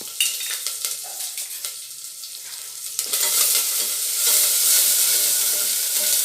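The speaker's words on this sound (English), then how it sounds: "Now we are going to add curry leaves. Be careful while adding, it will pop." Curry leaves hit hot oil already holding ginger garlic paste and whole green chilies: sharp crackling pops for a few seconds, then a loud, continuous sizzle that swells and holds.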